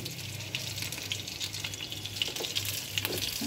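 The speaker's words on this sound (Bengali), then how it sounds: "সরষের তেলটার মধ্যে মাছগুলি ভেজে নেব" Prawns sizzling in hot mustard oil in a pan, a steady soft frying hiss with small scattered pops and crackles throughout.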